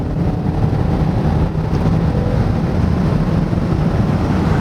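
Inside a Ford Explorer with the 2.3-litre EcoBoost engine while driving: a constant loud low rumble of engine and road noise, steady throughout with no talking.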